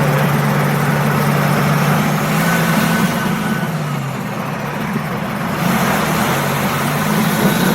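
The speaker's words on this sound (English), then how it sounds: "The truck was a C15 Caterpillar-powered Kenworth T908." A Kenworth T908 truck with a C15 Caterpillar engine idles close by, a loud steady low-pitched rumble with a humming tone that dips briefly and then returns to full strength.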